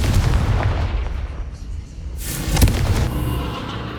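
Confringo blasting spell in the Hogwarts Legacy video game, heavy booming impacts with a sharp explosive burst midway, loud and close over rumbling game ambience.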